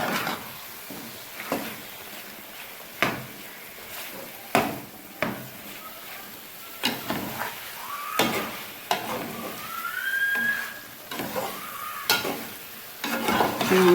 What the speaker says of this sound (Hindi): हम इसको अच्छे तरीके से जो है भून लेंगे।